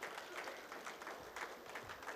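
Audience applause at an anniversary celebration event for a bank's remittance service, heard as a faint, steady patter of many hands clapping from a distance, with no breaks.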